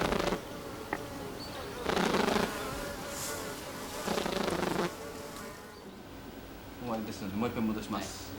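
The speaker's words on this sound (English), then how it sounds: "honeybees use the sound of their wings to communicate" Honeybees buzz with their wings in short bursts, with broadband swells around two, four and a half and near seven seconds against a quieter background hum; a voice talks over parts of it.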